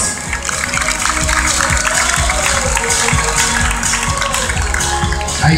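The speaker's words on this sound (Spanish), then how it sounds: "Un aplauso fuerte para los 3 equipos." Loud, dense applause from a crowd at the prize-giving ceremony of the 51st Rally Rías Baixas, greeting the three winning teams; continuous clapping over busy outdoor background noise.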